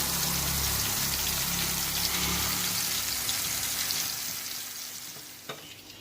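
Pieces of surmai (kingfish) frying in hot oil in a pan, a steady loud sizzle and crackle that slowly fades toward the end, with no talk.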